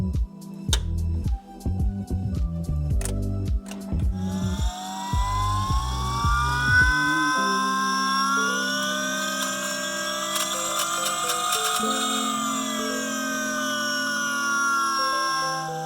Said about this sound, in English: make sure that this pump works and all the wiring I did works